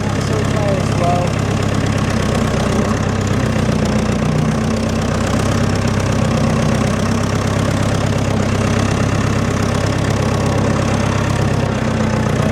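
Old tractor engine idling loudly and steadily up close, a constant low knocking throb with vibration and no break, while speech can be made out under it.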